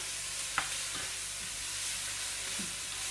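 Ratatouille vegetables cook in a pan with a constant low sizzling hiss, a few faint stirring clinks scattered through, with no talking.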